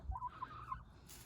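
Lohmann White laying hens newly settled into a farmyard give a short burst of soft clucking, fairly faint and close, with a low background hum and no talk.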